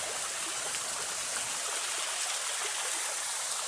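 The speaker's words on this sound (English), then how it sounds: "this is the waterfalls, the first one." A waterfall in Ubud, Bali rushes in a steady, dense broadband roar, close and unbroken throughout, with no voices.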